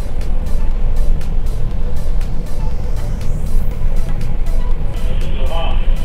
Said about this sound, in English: this is a combined effect of wind and swell